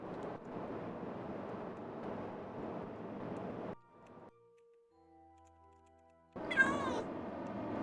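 A cat meows in short bursts, with a louder wavering cry near the end, set between stretches of steady background noise and a quiet gap with soft tonal beeps.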